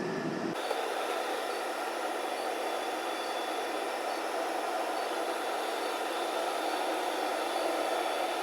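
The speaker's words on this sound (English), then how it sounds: "That's your fan, supplies the air to the boiler" Classic Edge 760 HDX outdoor wood boiler combustion air fan kicking on, then a constant steady whir and rushing air hum, moderately faint and unchanging, with no talk.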